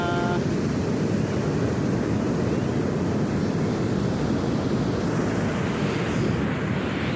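Ocean surf on an ordinary beach rolls in as a steady, loud broadband wash with wind buffeting the microphone throughout, and no voices are heard.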